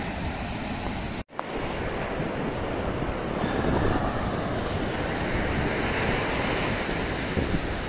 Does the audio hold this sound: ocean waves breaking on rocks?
yes